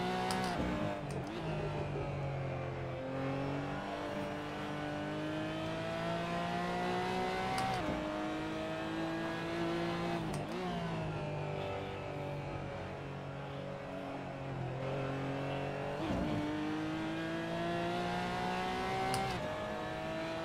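Racing cars in a video game drone steadily with engine notes rising and falling through gear changes, a continuous loud whine with repeated upshift steps, no talk.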